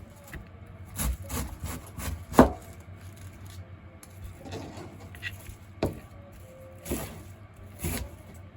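A knife chops 300 grams of cabbage into pieces for okonomiyaki on a cutting board, giving a series of crisp, spaced thuds and cuts at close range with a few louder strikes.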